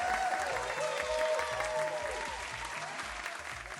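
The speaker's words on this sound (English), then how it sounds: "I'll do the applause. Everyone's fine. I've got to do the applause." A stream's canned applause effect: a steady, dense crowd clapping wash throughout, loud and close, with a faint musical tone and low rhythmic thumps underneath.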